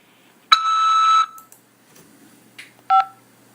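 Telephone keypad tones on a corrections facility collect call, a long steady beep followed by a couple of short tones and a brief dual-tone press, crisp and close in a quiet line.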